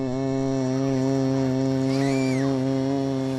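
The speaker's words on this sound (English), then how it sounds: "It's a curious humming sound that seems to be coming from inside the object." A steady, loud electrical hum with strong harmonics comes from inside a mysterious object in a War of the Worlds radio drama, holding an even drone with a brief rising and falling whine in the middle.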